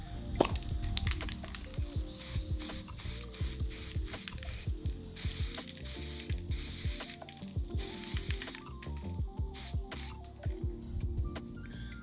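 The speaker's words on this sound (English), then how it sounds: "we're going to hit them with some brown spray paint" A can of brown spray paint hissing onto DIY Warhammer 40K terrain in short repeated bursts, each spritz broken by the rattle and click of the nozzle, close and fairly loud with no talk.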